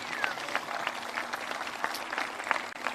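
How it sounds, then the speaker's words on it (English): An outdoor audience at a municipal band concert applauds the staff, a steady patter of many hands clapping at moderate distance, individual claps popping out irregularly with faint voices mixed in. "Can you give the whole staff and everybody out here a big round of applause"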